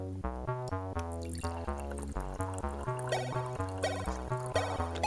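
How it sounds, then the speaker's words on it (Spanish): Distilled water poured into a glass in a lab setting, a bubbling, rising series of rapid glugs and drips with shifting tones, close and fairly steady throughout with no talk. "coloque un poco de agua destilada dentro del vaso."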